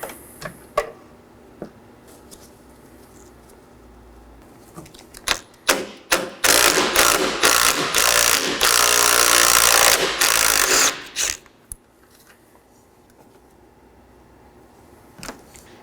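Ratchet with a 13mm socket removing strut bolts on a 2013-2019 Nissan Sentra, scattered clicks building into a loud rapid ratcheting run of several seconds, then sparse clicks and handling clatter, close and without speech.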